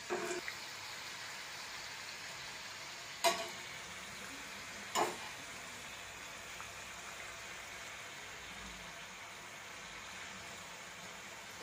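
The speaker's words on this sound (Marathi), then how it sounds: "तेल बारीक गॅस करायचं आहे तेलाचं, आणि हळूच सोडायचे आहेत." Dry fruit karanji, a Diwali sweet pastry, frying in hot oil in a kadhai over a low flame: a faint, steady bubbling sizzle runs throughout, broken by two brief sharp clicks.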